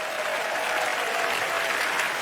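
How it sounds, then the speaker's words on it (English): Dense, steady applause from a large audience at a live talk, continuous and even throughout, with no voices standing out. "Give him a huge round of applause."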